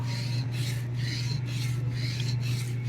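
A hair clipper blade being sharpened against sandpaper, a close, continuous rhythmic rasping in quick back-and-forth strokes with no pauses, steady and loud.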